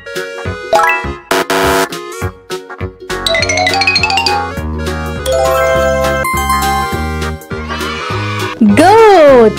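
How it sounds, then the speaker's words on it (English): A cartoon goat bleats for a preschool animal-name lesson, set in bright jingly children's music with a sung or spoken voice over it, the bleat rising and wavering near the end. "Goat."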